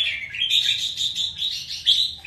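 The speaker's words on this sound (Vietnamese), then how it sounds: "Có 8 con chim rồi." Several caged pet songbirds, about eight kept together, give rapid bright chirps and tweets in quick overlapping bursts, close and loud with no talking.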